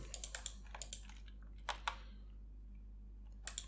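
Two quick computer keyboard key presses of the G key while editing vertices in Blender, sharp close clicks among other scattered typing taps, with no talk.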